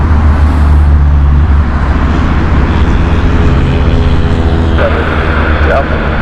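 An Airbus A319 at Heathrow Airport gives a loud, steady jet engine roar that stays strong throughout, with a deep low rumble and someone talking over it.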